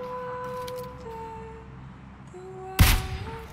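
A single sharp gunshot cracks out in PUBG Lite after a stretch of quiet engine drone and game tones, loud and close, with a hint of another shot at the very end.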